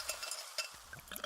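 Pepsi Zero Sugar cola pouring into a glass, a short, quiet fizzing trickle with faint crackling bubbles and light clinks, close and alone.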